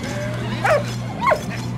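A dog in the World War I video game Valiant Hearts gives two short whimpering yelps over a steady low background drone, with no voices.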